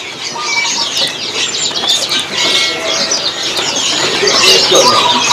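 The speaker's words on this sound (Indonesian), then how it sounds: "Dari burung kacer Kalimantan." A Kalimantan magpie-robin (kacer) in a bird kiosk sings bright, rapid chirps and warbles over a busy background, with other birds and faint voices around it.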